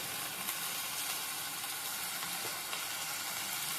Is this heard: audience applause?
no